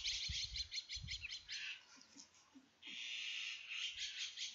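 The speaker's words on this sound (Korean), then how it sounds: "조용하던 새들이 오늘은 더 요란스럽군요" Birds chirping the day after rain, bright repeated calls close by and continuous, with a few low soft thuds underneath.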